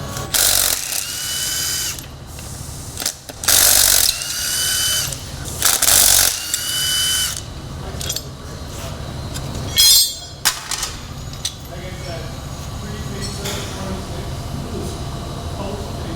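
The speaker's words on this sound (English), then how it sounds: "Right now we're taking out the rear wheel bearing from the OEM knuckle." Power tools and ratcheting mechanisms work on a Nissan 350Z rear knuckle as its OEM rear wheel bearing is removed, with loud bursts of impact-style rattling and clanking alternating with a lower whirring and background machinery.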